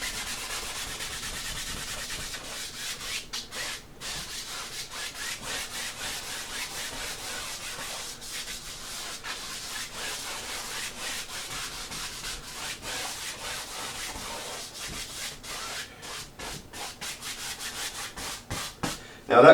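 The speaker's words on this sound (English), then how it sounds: "go into the big paintbrush I have here. And just go ahead and speed it up by just coating the whole thing in phthalo blue" Big paintbrush coating a canvas in phthalo blue paint, a steady close scrubbing and rubbing of bristles going back and forth throughout, with no talking.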